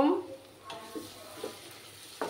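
Masala with black pepper powder being stir-fried in a pan over low heat for a chicken ghee roast, a faint sizzle under a few soft scraping stirs of a spatula.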